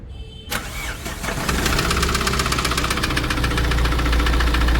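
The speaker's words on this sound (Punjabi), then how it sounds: "ਹੁਣ ਇੰਜਨ ਦੀ ਆਵਾਜ਼ ਵੀ ਤੁਹਾਨੂੰ ਸੁਣਾਉਣੇ ਆ ਬੇਟਾ ਗੱਡੀ ਸਟਾਰਟ ਕਰਿਓ" A Tata Safari SUV with a hot engine cranks briefly, then catches and settles into a loud, steady, slightly knocking diesel-like idle close to the listener.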